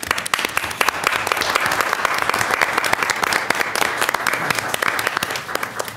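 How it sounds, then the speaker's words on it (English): Sustained applause from the audience at a school district board meeting, honoring principals and the superintendent. Dense, even clapping from many hands fills all six seconds. "So I just want to take a moment and applaud our principals and our superintendent."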